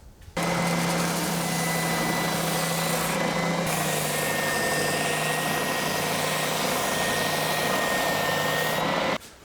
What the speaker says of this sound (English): I'm just going to fine tune this on the sander and get it looking curvy.